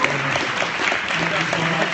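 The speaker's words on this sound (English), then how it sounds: "Let's give a round of applause for all of these candidates." Crowd applause at a community candidate forum, a short, steady wash of clapping with voices talking over it throughout.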